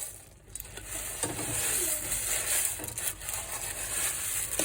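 Cornflakes are stirred into hot, foamy melted honey and butter in a pan for honey joys, giving a close, continuous scraping and crackling with faint sizzling and no talk.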